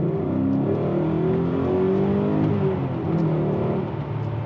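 A BMW E39 M5 sports saloon engine roars under hard acceleration, its pitch climbing steadily through the gears, loud and continuous with no talking.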